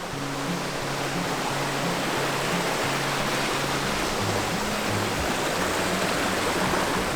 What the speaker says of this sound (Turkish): Böyle minik bir şelale vardı.